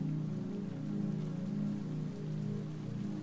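Gentle rain falls steadily on a surface, a soft continuous patter and hiss with slight swells in intensity, close and even throughout, with no voices.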